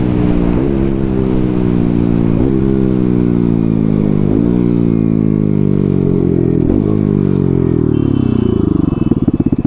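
A Bajaj Pulsar NS200 and a Yamaha R15 V4 accelerate hard side by side in a drag race, engines roaring loud and close through rising pitch sweeps with quick gear-change dips.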